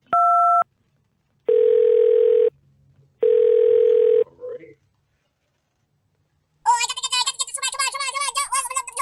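A telephone call being placed: a short electronic tone, then two long, steady ringing tones separated by silence, followed by a lively, high-pitched cartoonish voice talking.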